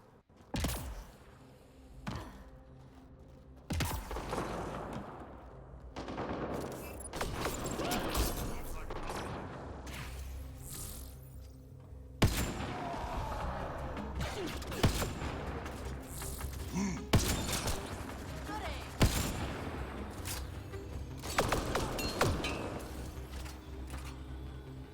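Turret gunfire in the sci-fi shooter Mass Effect: Andromeda, sharp scattered shots and bursts mixed with mechanical clanks and combat noise over a long stretch of gameplay, with people talking intermittently.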